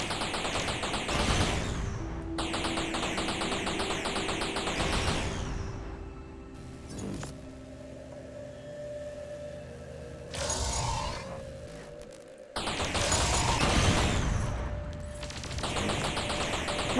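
Bursts of video game machine-gun fire, dense and loud, come in rapid salvos separated by quieter mechanical stretches, then return in another heavy volley.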